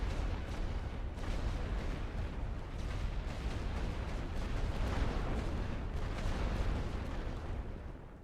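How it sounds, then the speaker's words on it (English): A pre-battle artillery bombardment rumbles on a First World War Western Front battlefield in The Great War: Western Front, a dense, unbroken barrage of distant booms blending into a steady, heavy roar. "We did a pre-battle bombardment."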